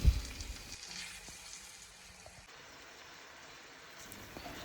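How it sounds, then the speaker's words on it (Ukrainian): Soft, steady sizzling of zucchini frying in a pan, quiet and continuous with a faint clatter near the start. "смажу кабачки"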